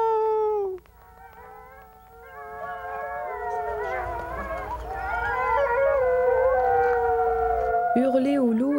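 A man howls to imitate and call wolves in the woods: long, rising and falling wailing tones that swell and hold, loud and close, ending with a sharper cry.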